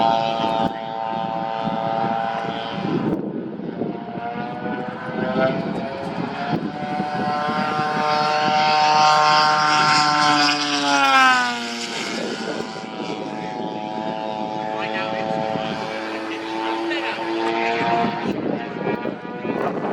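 A Ziroli kit RC model Corsair warbird in Red Bull livery flies at a warbirds airshow, its propeller engine droning loudly with pitch swelling and dropping as it passes.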